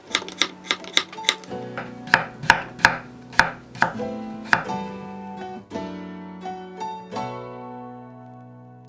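A knife chops whole garlic cloves and then slices a small quartered potato into thin rounds on a cutting board, each cut a sharp close knock, quick in a rapid burst at first, then slower and steadier, with no talk.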